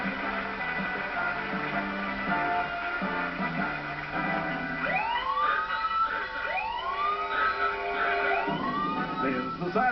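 A rising and falling electronic game show siren on Sale of the Century (1990) wails repeatedly in sweeping cycles, following a sequence of short stepped tones, loud and close.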